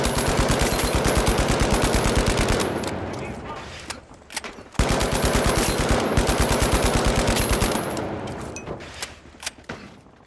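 Shots from a hard-hitting, slow-firing, heavy-recoil 25-round gun in The Finals ring out in two sustained, evenly paced volleys of loud reports. A short pause separates the volleys, and a voice talks over the shooting.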